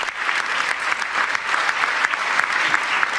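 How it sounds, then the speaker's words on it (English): A large standing audience at the United Nations applauds as a speaker takes the podium, sustained dense clapping with slight swells, steady and fairly loud throughout. "you can see they are standing and applauding as she takes the podium"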